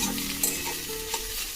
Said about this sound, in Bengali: ধনেপাতাটা ভালো করে মিশিয়ে নিচ্ছি